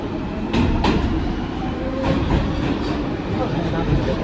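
A New York subway R188 train runs through Manhattan with a steady rumbling roar, broken by a few sharp clacks from the wheels on the track.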